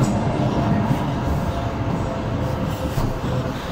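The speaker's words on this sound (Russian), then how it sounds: "Трамвай поехал." A tram pulls away along a city street in central Łódź, a steady low rumble of rolling wheels and motor running continuously and moderately loud throughout, with no talk over it.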